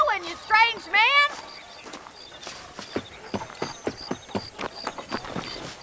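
In Red Dead Redemption, a ridden horse's hooves clop in a clear, steady rhythm for the second half, after a brief, wavering tonal cry at the start.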